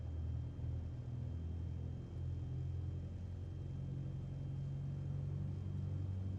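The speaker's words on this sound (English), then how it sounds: "I'm going to bring up the throttles here" Single-engine propeller aircraft engine in a flight simulator video game, throttled up to about 2,400 RPM, a steady droning rumble with a low hum that holds evenly throughout, no talking.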